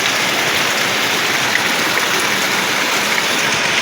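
Heavy rain falling outside, a loud, unbroken wash of hissing water that stays constant throughout.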